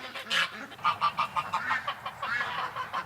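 A female duck, standing unsteadily on an injured leg, hisses and gives a string of short, raspy, honking calls at close range. Several bursts follow one another over a few seconds, with no talking.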